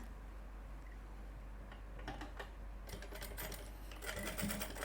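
A sewing machine stitches a shirt during a garment repair, running in short intermittent bursts of rapid stitching that grow more frequent after the first couple of seconds; fairly faint and close, with no talking.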